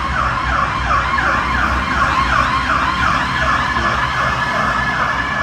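A loud ambulance siren wails in rapid rising and falling cycles nearby, with road traffic rumbling underneath.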